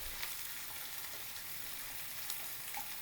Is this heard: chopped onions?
yes